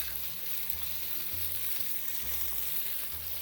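Dry chopped chilies and ginger frying in a pan over medium heat for samosa filling, a continuous close crackling sizzle with faint stirring scrapes, no voices.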